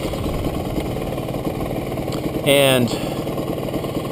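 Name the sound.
GasGas EC300 dirt bike engine idling around 1200 RPM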